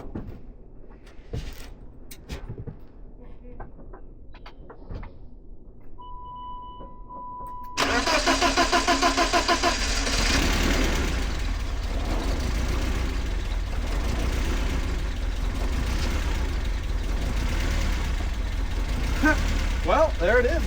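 BMW E36 rallycross project car with suspected injector trouble cranking after quiet shuffling, then catching and running roughly with a loud, steady, slightly uneven idle close by; a person speaks over it.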